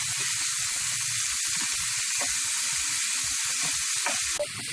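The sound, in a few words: sautéing onions in a pan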